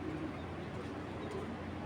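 A tournament pigeon, an old-breed Giribaz flyer, coos in low, soft repeated notes close by, over a steady background hum with no talk.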